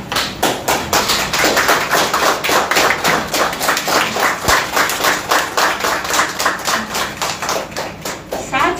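A standing audience claps steadily to welcome a guest at a formal event, loud and dense with a rhythmic pulse throughout.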